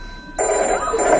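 An old-style telephone bell starts ringing after a brief quiet stretch and keeps up a steady, bright, continuous ring close to the listener.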